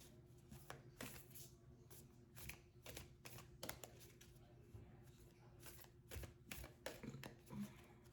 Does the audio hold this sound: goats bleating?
no